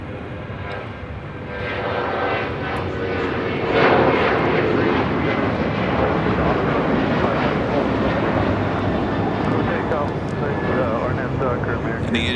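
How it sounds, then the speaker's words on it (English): An Asiana Airbus A380 taxis at LAX, its engines giving a loud, sustained roar that swells partway through, with a voice talking over it. "the Asiana A380 Super now making that left-hand turn on to Lima"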